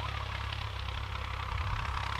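A CHAMP YTO 454 tractor with a big exhaust and snorkel runs in a steady, loud, close idle, a deep continuous rumble with an even pulsing throb throughout.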